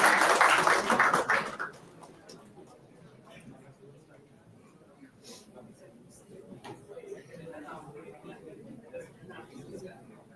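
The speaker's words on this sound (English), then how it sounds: "Let's hear a huge round of applause for students." An audience at a summit applauds students, a dense burst of clapping for about two seconds that quickly dies away into murmuring chatter and a speaking voice.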